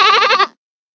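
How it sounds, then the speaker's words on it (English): A goat's bleat in a children's alphabet song, one loud, close, wavering call of about half a second that cuts off into silence. "Goat."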